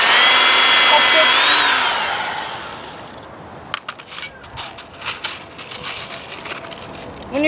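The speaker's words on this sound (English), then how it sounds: "And we'll start screwing, or drilling." A power drill whines steadily for a few seconds drilling into a wooden box, then winds down, followed by scattered clicks and knocks up close.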